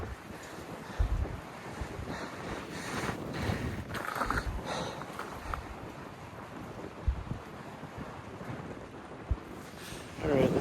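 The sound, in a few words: strong wind in a Texas slot canyon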